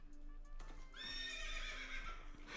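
A horse whinnies loudly over a steady rumble, with a few hoof thuds at the start; the neigh rises and wavers for about two seconds.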